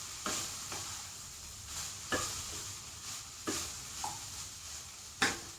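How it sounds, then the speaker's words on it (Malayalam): A spoon stirs pappadam rice in a pan, making repeated scraping strokes about once a second over a soft continuous sizzle, close-up and moderately quiet, with no voices. "ഇതൊന്നും ഇളക്കി കൊടുക്കട്ടെ."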